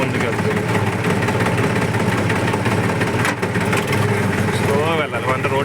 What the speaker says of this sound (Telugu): సింపుల్గా ఫస్ట్ గేర్ వేసి స్లోగా క్లచ్ వదిలామంటే బండి అనేది లైట్గా ముందుకు వెళ్తుంది